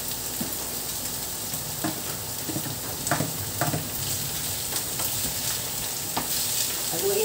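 Shredded chicken breast and translucent onions fry in a pan, a steady close sizzle punctuated by repeated scraping stirs and clacks of the spatula, with no talking.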